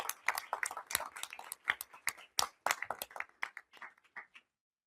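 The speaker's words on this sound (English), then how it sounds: "Huge round of applause to these guys." A small audience at a school board meeting claps for students, a sparse, uneven patter of hands that thins out and stops after a few seconds.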